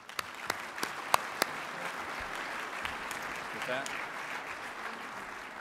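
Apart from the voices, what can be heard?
audience applause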